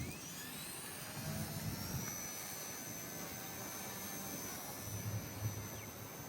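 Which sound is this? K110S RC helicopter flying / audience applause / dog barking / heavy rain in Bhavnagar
K110S RC helicopter flying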